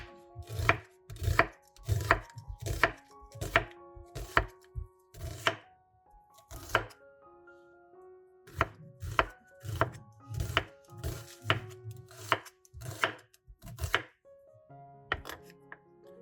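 Knife chopping onions thinly on a cutting board, 400 to 450 grams, in rapid bursts of crisp rhythmic thuds separated by short pauses, close and loud with no talk.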